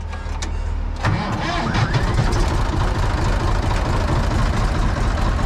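A Massey Ferguson 86 combine engine cranks briefly, then catches and settles into a loud, steady, rumbling idle close by, with no voices over it.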